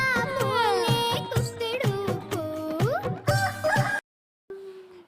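A cartoon rooster clucks and crows in a children's Hindi alphabet song, its calls blending with bright music before a short silence and a brief trailing tone.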